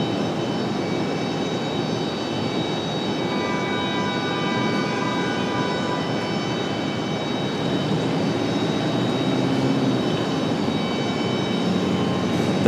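A Republic Airways 3520 airliner rumbles at Raleigh Durham International airport as a steady, loud, continuous engine roar with a faint whine, heard alone with no talk.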